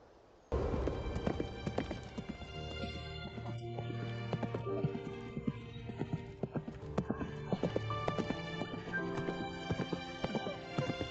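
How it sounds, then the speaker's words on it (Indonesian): Horse hooves clip-clopping in clear, closely spaced steps, with a neigh near the start and the animal moving steadily nearby. "Yang mulia, itu adalah kuda yang bagus."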